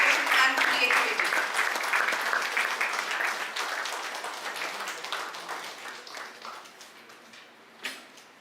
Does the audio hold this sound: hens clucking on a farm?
no